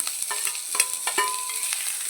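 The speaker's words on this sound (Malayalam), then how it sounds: "നാളികേരക്കൊത്തും പച്ചമുളകും വലിയ ഉള്ളിയും കൂടി" Coconut pieces, green chilli and onion fry in coconut oil in a pan, a steady sizzle broken by several crisp stirring clicks and scrapes.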